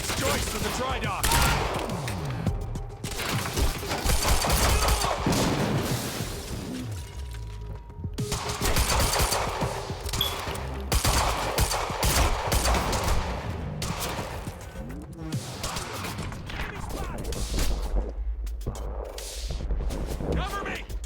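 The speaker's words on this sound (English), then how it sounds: "Cover me! Suppressive fire!" Gunfire rattles in repeated bursts during a firefight in the video game Quantum Break, with shots, impacts and shattering layered over voices calling out between volleys.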